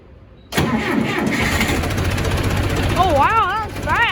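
A farm tractor engine is cranked and catches after a brief quiet start, then settles into a loud, steady rumbling idle, with a voice speaking over it near the end.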